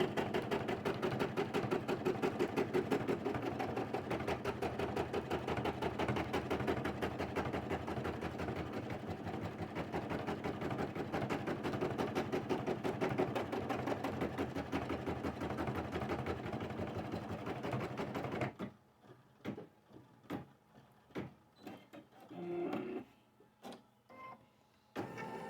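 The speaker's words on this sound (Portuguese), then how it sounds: "depois que a máquina termina de fazer o matelassê" Embroidery sewing machine stitching a quilted matelassê pattern, a fast loud continuous mechanical whir for about eighteen seconds, then stopping into short intermittent bursts of clicks and stitching.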